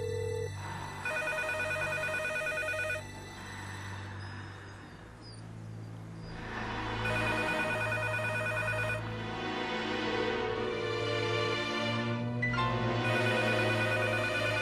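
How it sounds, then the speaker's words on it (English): A telephone ringing several times in repeated electronic bursts with short pauses between them, over a low background hum. "Phone rang several times."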